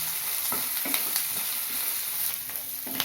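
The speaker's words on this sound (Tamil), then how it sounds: "ரெண்டு வெங்காயம் வதங்க கருப்பு சேர்த்துக்கிறேன் உப்பு சேர்த்தா தான் வெங்காயமும் பூண்டும் கொஞ்சம் சீக்கிரம் வதங்கும்" Sliced onions and garlic sautéing with salt in a hot pan for a curry leaf, pepper and garlic kuzhambu, a steady close sizzle broken by light scrapes and stirs of a spoon.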